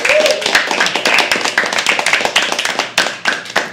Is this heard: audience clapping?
yes